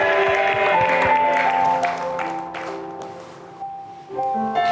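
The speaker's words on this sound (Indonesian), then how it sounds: "Ladies boleh berikan tepuk tangan." A studio audience of women applauds on a dating show, a dense burst of clapping that fades over a few seconds and rises again near the end, mixed with background music.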